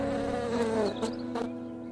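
A winged insect buzzes close by, a steady, loud drone that shifts in pitch and pulses briefly near the end, with nothing else heard.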